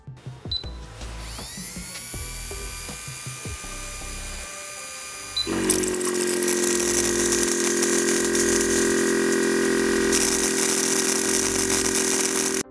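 A small electric nail drill and polisher whirs at a high pitch, then its hissing water spray joins in and both run together steadily until an abrupt stop.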